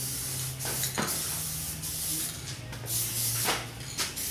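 Aerosol spray can dusting coats of adhesion promoter onto car trim, a series of close hissing bursts with short pauses between them, no talking.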